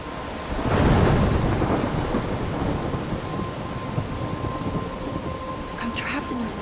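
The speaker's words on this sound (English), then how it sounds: "I'm trapped in a storm?" A thunderstorm in the video game Life Is Strange: a deep rolling thunderclap swells early and fades into steady heavy rain hissing on surfaces, with a thin sustained tone underneath.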